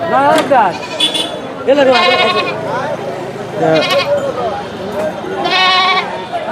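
Sheep bleat repeatedly at a busy rural livestock market, several sharp wavering calls rising over nearby people talking.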